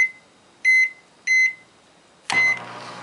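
A microwave oven with an iPhone 5 inside gives three short, clear beeps, then starts up with a steady running hum that carries on to the end, with no voices.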